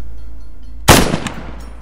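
A single sharp gunshot cracks out loud and close in ArmA 3, running with a modded realistic sound set, followed by a short echoing tail and a fainter second report.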